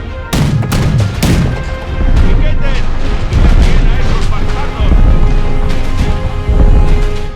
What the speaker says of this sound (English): The ground shook under repeated bombardment.